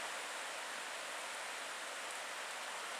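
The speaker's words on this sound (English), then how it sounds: "there's a waterfall right there" A waterfall in a winter forest along the Loyalsock Link Loop gives a constant, even hiss of falling water, steady and unbroken throughout with no voices.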